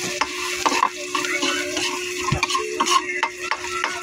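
Garlic sautéing in a pan for tokwa't baboy, with close, rhythmic scraping stirs over a soft, constant sizzle and no talking.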